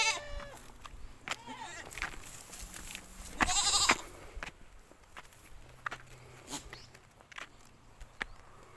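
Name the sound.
goat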